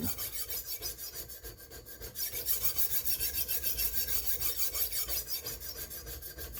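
Knife being sharpened with repeated strokes on a sharpener, a steady series of rhythmic rasping scrapes, close and alone without talk.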